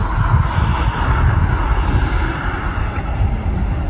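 Jet engines of an Emirates airliner at Manchester Airport, heard as a loud, steady broadband roar and rumble that holds at an even level throughout, with no talk over it.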